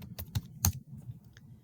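Keys clacking on a computer keyboard as a search for painted lady butterfly images is entered, a short burst of several close, crisp taps with no voices.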